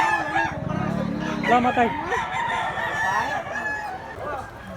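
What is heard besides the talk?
rooster clucking and crowing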